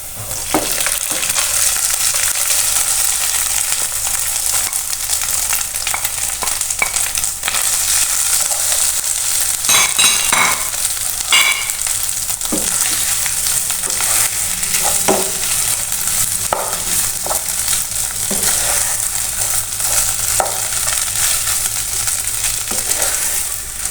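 Potatoes frying in hot oil with whole cumin seeds: a dense, continuous hiss of sizzling with scattered clicks and scrapes as they are stirred, close and steady throughout, no talk.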